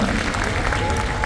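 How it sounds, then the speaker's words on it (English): Applause continues from a spring orchestra concert crowd, an even wash of many hands clapping at moderate loudness, with a voice faintly present beneath it. "Give me another clap"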